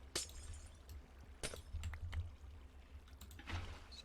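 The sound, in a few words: flowing water placed in Minecraft, a video game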